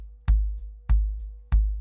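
Three isolated kick drum hits without an expander on the channel, each a loud boomy thump with a long low tail that rings on until the next strike, spaced about half a second apart.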